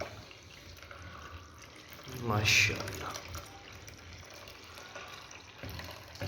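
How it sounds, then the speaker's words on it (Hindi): Water is poured from above into a container set on the ground, a brief rising splash that swells for about a second over a low background hum while someone speaks briefly. "अब डालता हूँ पानी।"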